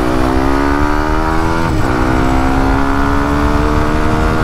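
A standard-engine Yamaha WR155R motorcycle accelerates hard, its engine climbing in pitch, then dipping briefly at a gear shift before rising again, loud and close with wind noise.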